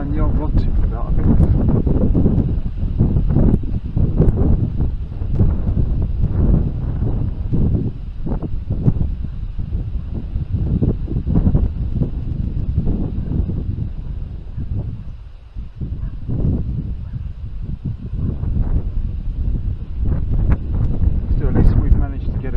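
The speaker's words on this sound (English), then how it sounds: "It's quite windy now, it's quite breezy." Breezy autumn wind buffets the microphone on the bank of the River Adur during a fishing session, a steady loud rumbling roar with gusts throughout the whole stretch.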